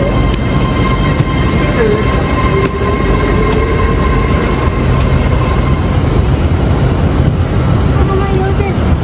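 Loud, constant rumble of a moving UK train from London to Scotland heard from inside, with steady low roar and faint squeals from the rails.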